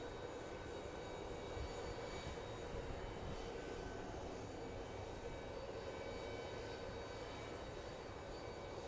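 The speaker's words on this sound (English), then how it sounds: "Airbus A350 operated by British Airways" A British Airways Airbus A350 jet roars in a steady, broad engine rumble at an international airport, loud and unbroken throughout with no talking.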